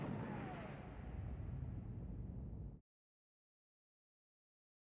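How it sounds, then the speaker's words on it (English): Explosion sound effect in a Trainz railway animation: a single sustained, loud rumbling blast that fades for almost three seconds, then cuts to silence before a brief sharp pop at the end. "It sounds like an explosion to me."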